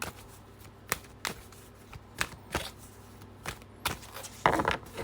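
A deck of cards shuffled in several quick riffling bursts, each a sharp crisp flutter, ending with a longer louder riffle; close by, with a low steady hum underneath and no talking.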